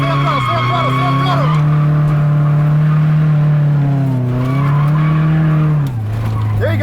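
An LS1-powered Nissan S13 drifts with its tires squealing in a long, loud, sustained screech alongside the revving engine, the pitch sagging and rising as throttle changes, with no talk over it.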